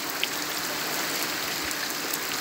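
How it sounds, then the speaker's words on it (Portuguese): Heavy downpour of rain in Serra do Cabral, Paraíba, a steady, dense hiss of drops falling without pause, close and fairly loud throughout with no voices. "Toró d'água caindo nesse momento."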